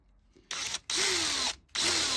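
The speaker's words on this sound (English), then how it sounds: "British Engineering Dead Man Shed's brand new drill" A brand new British-made power drill bores a hole for a gate lock in three loud bursts close by, the motor whining steadily with short pauses between runs.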